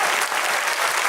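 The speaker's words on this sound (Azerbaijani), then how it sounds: "Bəs bu alqışlar" Warm applause from a studio audience after a singing performance on a talent show, a dense, continuous clapping that sounds full and close throughout.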